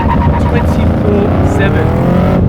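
A modified Holden HSV ClubSport R8 (VE) with an LS3 V8, Di Filippo headers, cats and a full catback exhaust roars loud and close, a deep, rumbling, sustained drone under load.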